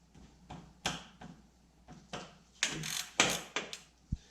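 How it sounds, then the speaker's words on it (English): A ratchet wrench works a 19 mm banjo bolt on a BMW E36 M3 engine, giving several close, quiet clicking bursts and metallic rasps spaced irregularly with brief pauses between. "So I'm going to use a ratchet wrench here"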